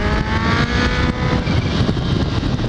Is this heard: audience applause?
no